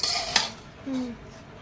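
A spoon stirs chicken biryani in a pot, giving a brief close scrape and clink followed by softer shuffling of rice, short and fairly quiet.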